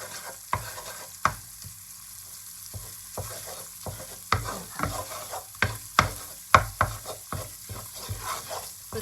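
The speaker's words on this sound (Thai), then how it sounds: "เอา พริกแกงพะแนงลงไปผัดให้กะทิแตกมันนะคะ" Close-up sizzling in a pan as panang curry paste is stir-fried in coconut cream, with repeated scraping and tapping of a utensil, no voices.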